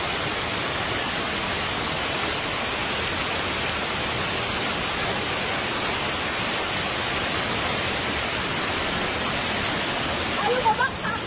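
A waterfall roars in a steady, unbroken wash of rushing water at a family outing spot, loud and constant, with a brief voice near the end.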